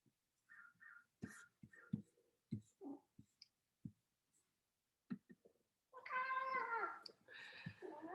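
A pet cat meows indoors, a few short, soft chirping calls and then a louder, drawn-out meow near the end, with quiet clicks and rustles in between.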